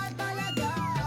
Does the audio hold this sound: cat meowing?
yes